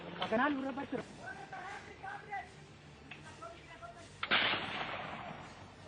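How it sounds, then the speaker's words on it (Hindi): Someone talks at length while sharp gunshots from a Naxal attack in a Chhattisgarh forest crack in the background, ending in a louder burst of gunfire. "एक दो नहीं, पूरे 4 घंटे तक इस जंगल में गोलियां ऐसे ही चलती रहीं।"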